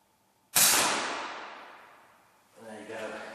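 A BSA R10 Mk2 air rifle fires a single close, sharp shot with a long decaying ring, followed by someone speaking.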